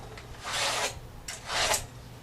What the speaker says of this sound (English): I'm cutting from the top of the sheetrock